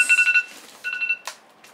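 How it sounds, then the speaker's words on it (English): A phone alarm ringtone plays a quick run of bright, repeating electronic beeps in two short bursts, close and fairly loud, then a brief softer chirp as it fades. "That's my alarm to take my pill."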